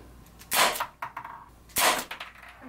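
Two sharp air gun shots ring out about a second apart at a basement firing range, each a sudden loud crack followed by a brief echoing clatter, with quiet between.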